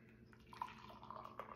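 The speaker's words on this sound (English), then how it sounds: "I just pour it in there." Homemade caffeine-free ginger tea is poured into a cup, giving a faint, close trickle with soft drips and splashes in a quiet room, with no talk.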